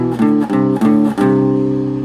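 An electric guitar plays perfect fourths on adjacent strings, three or four plucked two-note dyads in succession, close and clear with ringing sustain and no talk.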